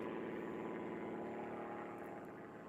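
Faint and distant, an aerobatic propeller airplane at a national competition drones steadily as it climbs to altitude, a continuous engine hum that fades slightly toward the end.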